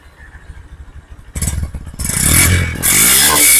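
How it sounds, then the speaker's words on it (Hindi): A Honda Shine motorcycle engine starts up quietly, then revs in bursts that grow loud and full, close by with no talking. "इसका इंजन साउंड सुनवाता हूँ आपको भाई।"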